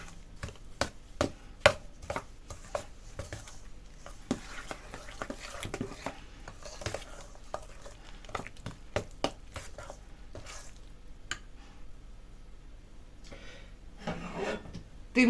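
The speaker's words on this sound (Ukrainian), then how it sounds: "І все це добре перемішуємо" A spoon stirs a meat filling with semolina in a bowl, giving repeated soft scraping, squishing and tapping strokes, close and uneven.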